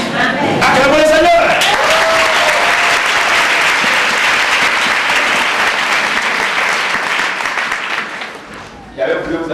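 A church congregation bursts into loud, sustained applause, dense clapping and cheering from a crowd that holds strong for several seconds before thinning out near the end, with voices mixed in.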